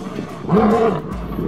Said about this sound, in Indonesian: Ini induk singa.